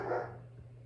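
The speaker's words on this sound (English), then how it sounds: "Please don't whine at the door." A dog gives a brief, close vocal burst at a door, a short whine or yip that fades quickly, with a low steady hum underneath.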